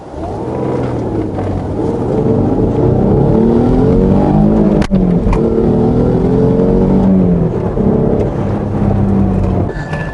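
An Alfa Romeo 156 2.5 V6 engine revs hard and loud, climbing and falling in pitch through several throttle blips, with a brief sharp click midway.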